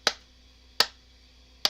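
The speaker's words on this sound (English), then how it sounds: "I usually do a clap test" Three sharp hand claps for an audio sync test ring out, evenly spaced less than a second apart, each crisp and close with a short decay into a quiet room.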